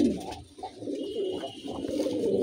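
A pair of breeding pigeons, a master pair from an old, fine line, coo in low, rolling, continuous tones from close by, with no talk.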